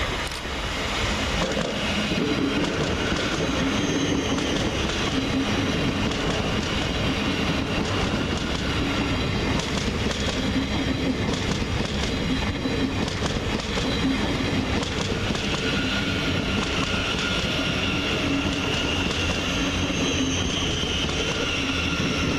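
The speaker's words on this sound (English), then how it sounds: "As the freight train trundles in the background, 700-117 arrives, terminating with a convenient Thameslink service from Horsham." At Peterborough station, a freight train rumbles steadily in the background while a Thameslink Class 700 electric unit pulls in. The rail noise is loud and continuous, with a faint clickety-clack and wheel sounds, and no voices.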